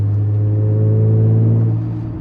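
A Nissan Z33 Fairlady Z's VQ engine droning loudly at steady revs, a deep, smooth hum that eases off slightly at the end.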